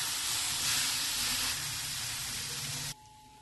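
Rice and dal tipped into a preheated cheenachatti (Kerala iron wok) for roasting give a loud, steady broadband hiss and rush for about three seconds, then cut off abruptly to a quieter background.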